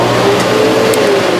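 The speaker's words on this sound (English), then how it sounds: "A separate power strip is connecting the air assist and the exhaust." A loud, steady roar of a laser cutter's air assist and exhaust fan with a constant hum, unchanging throughout, close by.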